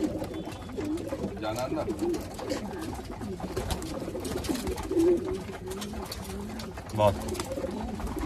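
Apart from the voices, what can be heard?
pigeons cooing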